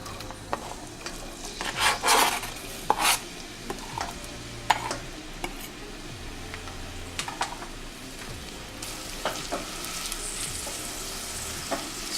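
Onion frying in palm oil in a cooking pot gives a soft, continuous sizzle, broken by a few scrapes and clicks of stirring, quiet and close with no voices.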